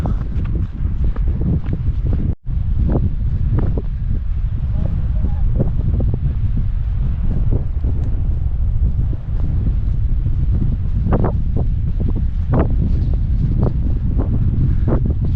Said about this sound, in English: A little bit windy up here.